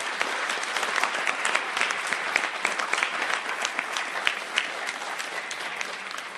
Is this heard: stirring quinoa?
no